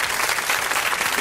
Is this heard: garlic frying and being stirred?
no